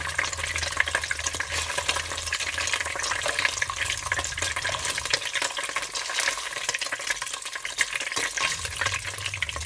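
Onion and vegetables stir-fried in a pot for noodles: a dense, continuous loud sizzle with constant crackling and scraping of the stirring, no one talking.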